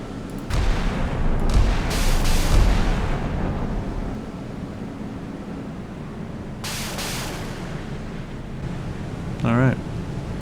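A missile barrage slams into a frigate in the naval combat game Sea Power: heavy rumbling booms and blasts cluster at the start, with another burst later. A voice speaks between the explosions.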